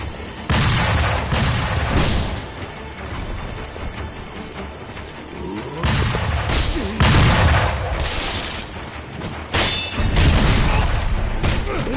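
Gunners fire in the video game Sekiro: loud booming blasts and volleys of gunfire come in heavy, repeated bursts that are separated by short lulls.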